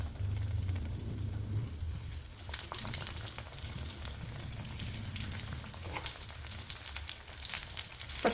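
Pieces of battered eggplant bajji frying in hot oil, a steady close crackling sizzle with bubbling and spitting throughout, and a low hum in the background.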